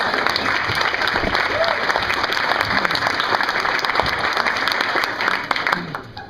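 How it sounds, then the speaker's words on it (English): Steady applause from a crowd fills the clip, dense and continuous, then fades out at the end. "So let's give a big round of applause for Caleb, you guys."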